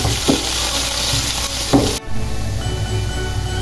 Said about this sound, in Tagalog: so on the same pan, magigisa tayo ngayon